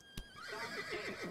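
A horse neighs and whinnies in a Wild West video game, a rising whinny breaking into a run of fluttering, descending nickers, moderately loud and alone, with a brief thump just before.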